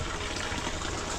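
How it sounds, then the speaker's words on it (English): A small stream trickles near a Bali waterfall in overgrown jungle, a steady broadband wash of running water, close and continuous throughout. "The trib is dribbling, I can hear her."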